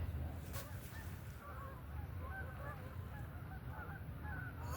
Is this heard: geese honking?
yes